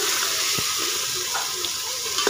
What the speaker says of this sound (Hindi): अब इसमें पानी डाल लेंगे।